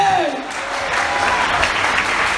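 A church congregation breaks into sustained, dense applause at a worship service, loud and steady throughout, with a faint tonal musical swell fading early on.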